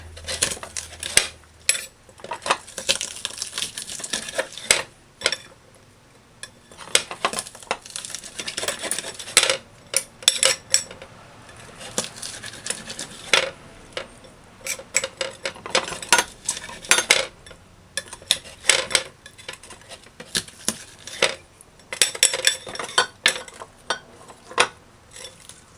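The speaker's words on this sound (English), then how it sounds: "Just kind of mash the garlic." Knife work on garlic at a kitchen counter for a beef stew: repeated sharp clacks and scraping knocks of blade on cutting board, dense and close, in irregular bursts with short pauses, no talking.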